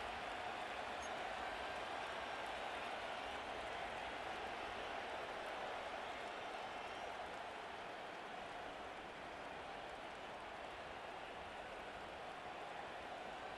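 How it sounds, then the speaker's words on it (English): A large stadium crowd in the Madden NFL 25 video game roars during a two-point conversion attempt, a steady, dense wash of cheering and noise that stays loud and continuous throughout. "Listen to this crowd now."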